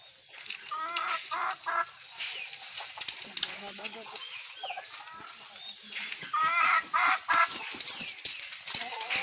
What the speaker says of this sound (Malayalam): കുറച്ച് കോഴികളെ ഞാൻ വേറെ വേറെ തന്നെ ഒരു മരത്തിൻ്റെ കൂട്ടിൽ സെറ്റ് ചെയ്തിരിക്കുകയാണ് അവരാണ് ഇപ്പോൾ ഇറങ്ങി വരുന്നത്